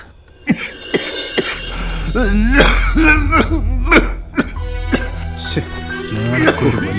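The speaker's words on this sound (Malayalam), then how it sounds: "എന്ത് ചുമയത്?" Several sharp coughs and throat-clearing bursts break out, mixed with strained vocal sounds, loud and close.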